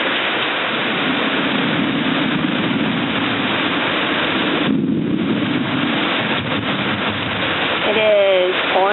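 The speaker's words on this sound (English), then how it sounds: "this is a thunderstorm in Iowa." Heavy thunderstorm rain in Iowa pours steadily in a dense, loud hiss throughout, with no break in the downpour.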